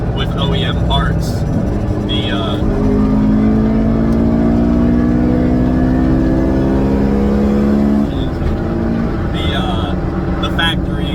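A 2002 Honda S2000 pulling hard to about 60, heard from inside: the engine note climbs steadily for several seconds, then the revs drop off as the driver lifts, with road roar underneath.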